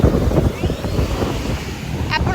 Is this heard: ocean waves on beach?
yes